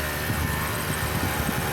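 A car engine idles steadily out in the open, a continuous low rumble with slight rhythmic pulsing and no talk, beside a vehicle stopped with a flat tire.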